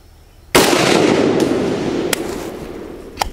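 A single sharp AK47 rifle shot at an outdoor range during zeroing, loud and close, with a long rolling echo decaying afterward and a couple of faint distant reports.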